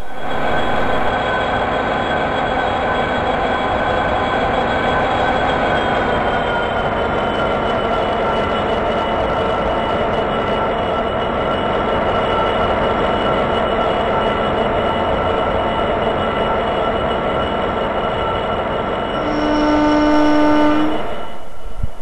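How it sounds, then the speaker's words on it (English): A shunting locomotive idles and moves oil tank wagons, with a barrier wagon, at an oil loading bay on the Furzebrook branch line. A steady, loud diesel engine drone holds throughout, and a sustained horn-like tone sounds near the end. "The shunter detaches the tanks from our loco, apart from the barrier wagon, as we'll need it in a bit."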